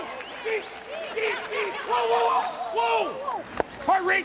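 A Saturday-night curling crowd in Las Vegas cheers and claps through the whole stretch, with loud shouts and whoops rising over steady applause and one sharp clap-like hit near the end.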